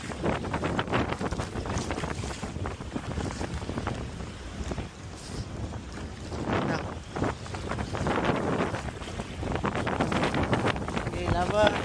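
A small Hobie Compass boat pushes fast over rough, choppy sea, with the motor droning steadily beneath constant wind buffeting and hull slaps. Nervous voices talk over it throughout.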